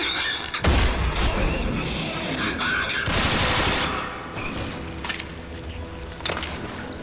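Rapid gunfire bursts from a nail gun in the shooter Rage, loud and close, firing in dense volleys with a pause between bursts and a few sharp shots near the end, mixed with game sounds.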